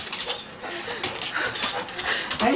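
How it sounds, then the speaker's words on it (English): A dog whimpering and whining while welcoming home a soldier back from deployment, soft high whines under excited voices and general commotion, fairly close and steady throughout. "whimper and whine"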